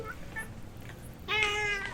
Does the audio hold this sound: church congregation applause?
no